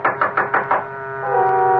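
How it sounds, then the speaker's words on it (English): A door is knocked on in a radio drama, five quick loud raps in a row, close and clear, followed by a sustained musical tone from the score. "I found a room and knocked."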